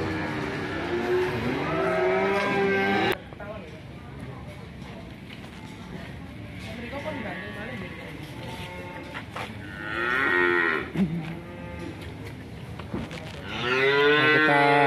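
Cows moo loudly and repeatedly, long low calls close by, with farm noise and some talking mixed in between the calls.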